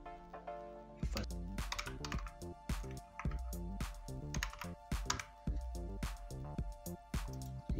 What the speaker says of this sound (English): First name, you go ahead and type in